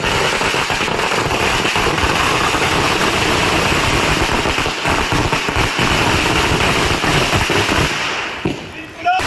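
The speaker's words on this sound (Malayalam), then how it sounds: "ബി കുഞ്ഞികൃഷ്ണന്റെ വീടിന് മുന്നിൽ പടക്കം പൊട്ടിച്ചും മുദ്രാവാക്യം വിളിച്ചും CPM പ്രവർത്തകർ" Firecrackers burst repeatedly in a dense, loud crackle outside a house during a party workers' protest with slogan shouting, the popping continuous and near, mixed with crowd noise and an engine hum.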